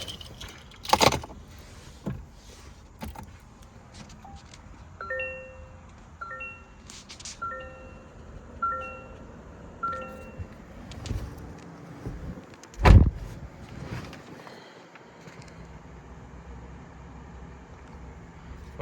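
Someone climbs into a 2025 Toyota Camry SE with a jingle of keys, a door thump and assorted clicks, then a series of short electronic chimes, a sharp loud thud near the thirteen-second mark and a quiet idle afterward; no talking.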